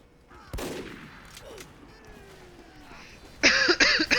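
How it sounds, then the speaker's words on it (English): A sharp cough near the start, then quiet background with faint Team Fortress 2 game sounds, followed by a loud cluster of close, rough coughs at the end. "Sorry, I keep coughing."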